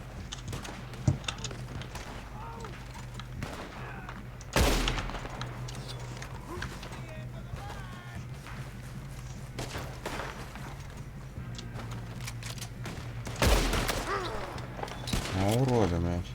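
Scattered gunshots ring out in a Red Dead Redemption 2 fight, a few sharp loud cracks spaced several seconds apart over a constant rumbling game soundtrack, with people talking throughout.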